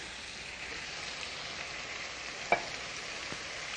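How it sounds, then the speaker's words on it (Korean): Ingredients stir-fry in hot oil in a pan, giving a soft, steady sizzle close by. A single faint knock or clink sounds partway through. No voices are heard. "그리고 조금 이렇게 볶아주세요."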